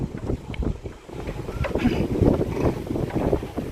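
Wind from riding a bicycle through Jaffna roars across the microphone in a steady, loud, gusting rush, with no voices heard.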